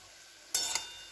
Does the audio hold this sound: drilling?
no